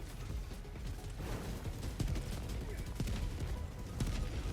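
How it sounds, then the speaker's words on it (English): Rocket Sentry firing during a Helldivers 2 Automaton battle against a War Strider, with repeated booming launches and impacts over dense, continuous gunfire and mechanical clatter. "our Rocket Sentry manages to take out the War Strider the rest of the way"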